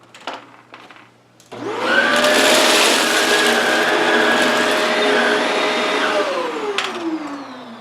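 A Shark Rotator Lift-Away vacuum in canister mode on turbo over low-pile carpet switches on abruptly and then holds a loud, steady roaring whine, which sags in pitch toward the end as it runs close by.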